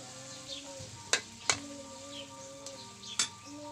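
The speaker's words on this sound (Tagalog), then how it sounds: "Gisa-gisa lang muna tayo mga kabudol." Sautéing in a pan while cooking bagoong (balaw) in Bicol, a low steady sizzle punctuated by three or four sharp clinks of a utensil against the pan.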